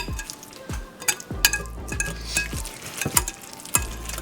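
A whisk stirs a garlicky ketchup mixture for meatloaf in a bowl, giving steady rhythmic scraping with sharp clinks against the sides, close and fairly loud with no voices.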